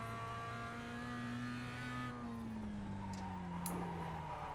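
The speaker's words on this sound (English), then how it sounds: "And I've just spun under braking." Mazda MX5 race car engine at Jefferson, a steady droning tone that sags in pitch as the car spins under braking, with faint tyre scrub close by, no talking.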